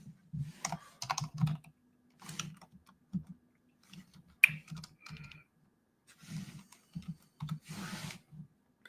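Typing on a computer keyboard during a late-night stream: close, crisp keystrokes in uneven bursts and short runs, separated by brief pauses.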